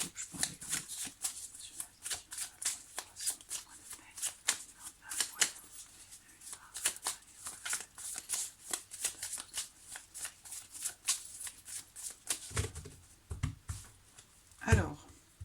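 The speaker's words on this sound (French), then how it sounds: "Je coupe, je prends les cartes dessus." A tarot deck being cut and shuffled, a long steady series of close, crisp card riffles and flicks with a few heavier thumps near the end as the cards are set down, a voice speaking at times.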